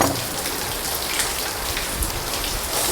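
Rain falls steadily in a downpour, producing a dense, continuous patter of drops on surfaces that stays even and fairly loud for the whole stretch, with no voices.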